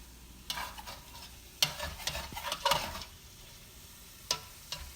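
Breakfast potatoes sizzling and being stirred in a pot, with scattered scraping and clattering strokes over a quiet, steady fry; no talking.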